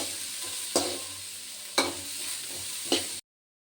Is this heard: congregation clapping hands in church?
no